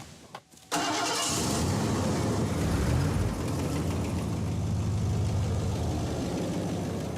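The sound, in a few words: car driving up to 40 miles an hour before braking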